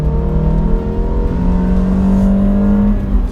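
A BMW 318 E90 with a 140-horsepower engine pulling hard in second gear, a steady droning note that climbs in pitch as revs rise, heard from inside the car with no talking.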